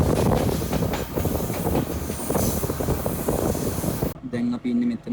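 Train rumbling along the line from Rambukkana toward Ihalakotte in Sri Lanka, a loud steady roar of wheels and carriages with a faint voice over it, dropping quieter near the end.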